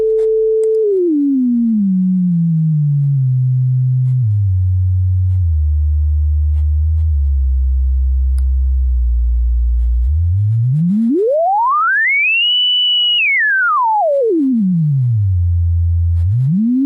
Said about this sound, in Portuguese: Conforme a variação de frequência, se eu aumento, torna o som mais agudo. E se eu diminuo, torna o som mais grave.